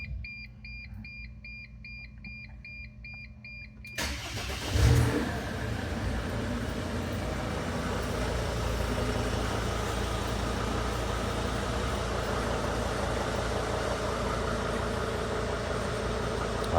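A 2006 Dodge Sprinter 3500 engine cranks after a short stretch of quiet electronic beeping, then catches and settles into a steady, loud running drone that continues to the end, heard close with no talk.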